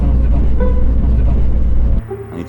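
A car pulls up beside a car wash, its engine producing a loud, close, steady low rumble that cuts off abruptly near the end, leaving quieter background noise.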